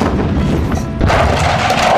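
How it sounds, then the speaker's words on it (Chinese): A release device on a bridge detonates in a loud, sudden boom; a second burst of noise follows at once and continues as a rumbling, sustained roar. "然而当爆炸声响起的一刹那，整个桥面瞬间开始下坠"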